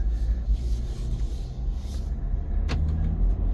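Interior of a 2024 Ineos Grenadier Trialmaster truck on the move: a low, steady engine and road rumble with a soft whoosh of cabin noise and a brief click near the end, no talking.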